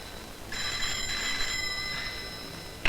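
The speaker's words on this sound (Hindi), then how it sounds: "एक मिनट साहब, किसी संजना रॉय का फोन है" A telephone bell rings steadily in a Hindi film scene: a bright, continuous trilling ring that is loud and close and pauses briefly between bursts, with a sharp sound at the very end.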